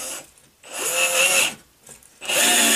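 A power drill runs in two loud bursts, whining and straining as it bores straight into a workbench, with a short pause between the runs and a steady high-pitched motor tone throughout.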